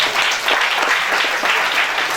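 A school audience of students and guests applauds for a secondary school head teacher, with steady, dense clapping from many hands throughout, filling the room at a fairly close distance.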